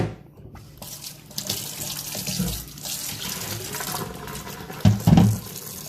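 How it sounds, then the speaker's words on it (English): Tap water runs into a kitchen sink as a plastic KitchenAid K150 blender container is rinsed out, a steady splashing stream with a couple of louder sloshes near the end and no talking. "I'm just rinsing it off with some water."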